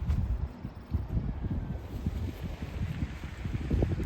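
Wind blowing across an open golf course, a steady broadband rush with low gusty buffeting against the microphone, continuous and fairly loud throughout with no voices.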